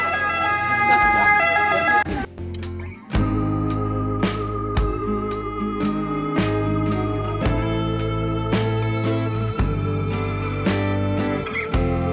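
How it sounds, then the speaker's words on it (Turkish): A loud ambulance siren wails continuously over rhythmic, music-like pulses, with a brief drop midway before the steady blaring resumes, in Sicily. "Ambulans mı bu?"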